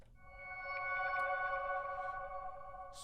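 Omnisphere's Distant Memories synth patch plays a sustained, evolving pad of stacked harmonic tones with soft shimmering accents, held steady for about three seconds before a breathy burst at the end, with no talking.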